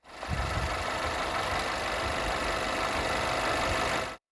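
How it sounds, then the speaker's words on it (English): A 2020 Mercedes GLB 250's 2-liter four-cylinder engine idles with a loud, rough, steady drone close by, running without pause and cutting off abruptly at the end; no one speaks. "They make a horrible sound, even at idle, or each time like it stops and starts itself back up."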